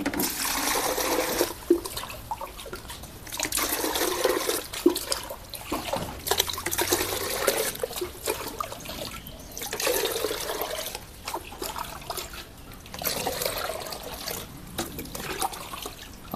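Water poured repeatedly from a 1.5-litre mug, measured out as drinking water for chickens, gives a series of rushing, trickling pours with short breaks between them and no talk.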